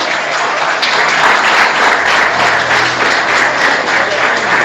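Church congregation gives loud, sustained applause to the Lord during a sermon, a thick continuous wash of many hands clapping with a low hum underneath.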